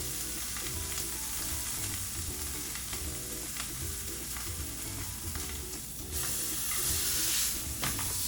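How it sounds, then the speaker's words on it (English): A red wine ribeye steak sears in a hot pan, giving a loud, steady sizzle and frying hiss that runs the whole time, with small stirring and scraping touches and a brighter hiss surge near the end. "Sear the next side."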